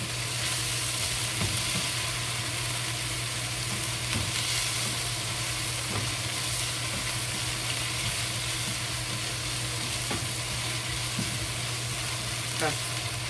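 Pork frying in a pan with soy sauce gives a continuous, even sizzle throughout, with occasional light clicks of a utensil and a low steady hum beneath.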